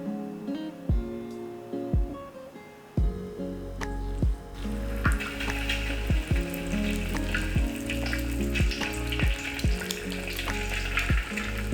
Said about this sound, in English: Fry these for about 5 minutes until they turn nice and golden brown